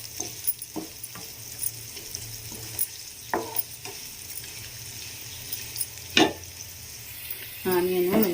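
Onions fry with turmeric in a pan for potato curry. A soft sizzle runs throughout, broken by sharp clicks and scrapes of stirring, and a louder, steadier hiss rises near the end.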